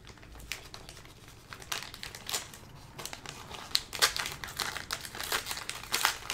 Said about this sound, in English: Pack 5 is the pack that we're going to open up.